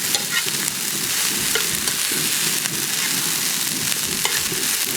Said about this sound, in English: Toss, try to mix them together.